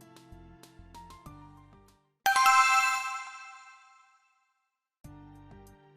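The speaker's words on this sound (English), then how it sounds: "Why did the bell just ring?" A doorbell rings once, a bright chime that rings out loud and decays over about two seconds, set between short electronic tones before and after it.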